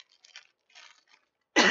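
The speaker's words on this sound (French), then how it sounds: "Naturellement, dans chaque vidéo, je tousse." A person coughs once, loud and close, after a stretch of soft scraping and handling noises in a quiet room.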